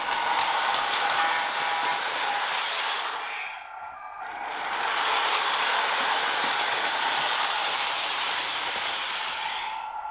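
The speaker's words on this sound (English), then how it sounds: "Got some rail sounds." Toy Plymouth switcher train's built-in rail sound effects, a steady, dense mechanical clattering that runs continuously, dips briefly and then resumes at full loudness, with no voices.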